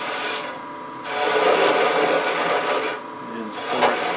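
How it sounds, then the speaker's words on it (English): A gouge cuts bulk wood from a spinning piece on a lathe, giving a continuous rough rasping scrape that rises and falls in intensity with a couple of brief lighter moments. "Just doing a little bulk wood removal here."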